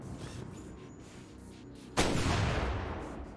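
Anti-aircraft gun emplacements fire in Marvel: Ultimate Alliance 2, set against a low battlefield rumble. One loud heavy blast booms midway and then rolls away in a fading echo.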